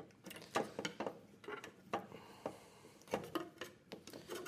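Bolt screwed in by hand during a robot build for a hooded shooter, giving repeated short ratcheting clicks in an irregular rhythm, close and moderately loud with no talking.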